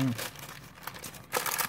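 Kraft paper crinkles and rustles close up in uneven bursts as it is unwrapped, with a brief voice at the very start.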